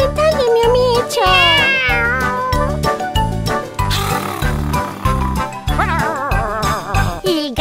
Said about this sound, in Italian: Il gatto sul trattore fa miau miau